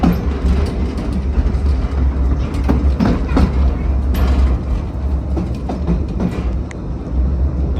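Heritage steam train running, heard from the last carriage, a steady low rumble with rhythmic clanks and rattling of wheels and couplings, loud and close throughout.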